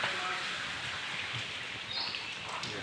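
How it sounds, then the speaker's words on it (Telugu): Steady patter of rainwater dripping from above and splashing onto a hard surface nearby, continuous and even throughout. "అదంతా కారుతాన్నాయి కింద పడతాయి నీళ్ళు"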